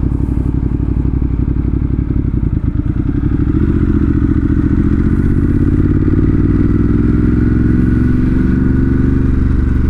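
A 2018 Ducati Monster 1200 S revs loudly and continuously up close, its engine note rising and falling with throttle blips, dull clatter and a thump mixed in.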